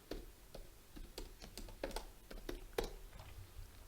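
A search phrase tapped out on a computer keyboard, a quick irregular run of close, crisp key clicks with short pauses, quiet and alone.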